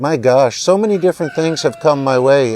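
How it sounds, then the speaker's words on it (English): A rooster crows in the background, its call mixed under someone speaking up close throughout. "If you hear one of my roosters in the background"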